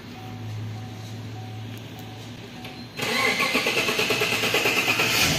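After a quiet hum, the six-cylinder gasoline engine of a 2020 Toyota Land Cruiser with a hard-starting, low-power fault cranks briefly and catches, then settles into a loud, close, pulsing idle.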